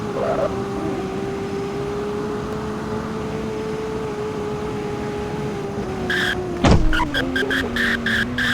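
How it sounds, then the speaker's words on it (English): A JDM car skids with a sustained tire squeal under a steady engine tone. Sharp broadband bursts and rattles follow near the end. "Skidding"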